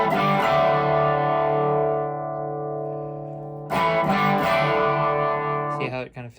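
Electric guitar through a Mesa Mark IIB+ amp with the mids dialed in, letting loud distorted chords ring out and decay, then striking again, all without talk.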